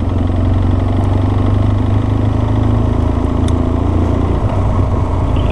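A BMW motorcycle idles in a village street with a steady, close, loud low rumble. The engine note holds even throughout, with no talking.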